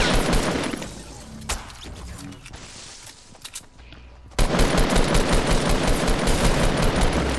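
Heavy automatic gunfire in the Fortnite video game, dense rapid bursts that briefly thin out midway, then return loud and continuous.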